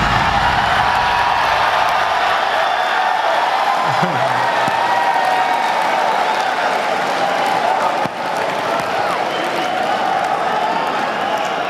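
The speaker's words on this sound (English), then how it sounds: "just hearing the roar from the crowd is spectacular." A large audience at a 2015 Sony press conference roars and cheers in a loud, continuous wall of noise that holds steady throughout.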